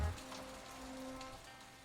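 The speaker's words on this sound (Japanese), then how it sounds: "小僧は夢うつつの中で雨漏りの音を聞いていた。" Rainwater leaking through a roof and dripping, heard as a soft, steady patter of drops that stays faint and continuous throughout.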